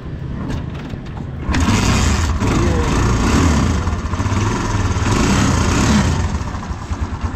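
A Kawasaki Barako motorcycle engine starts and runs at a steady, rough mid-pitched idle, loud and close, settling into a continuous chugging drone after a few brief sputters at the start.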